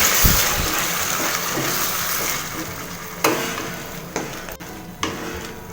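Tomato puree being stirred into snake gourd curry in a hot pan, a steady close sizzle and scraping swirl with a few sharper clinks of the spoon against the pan near the end.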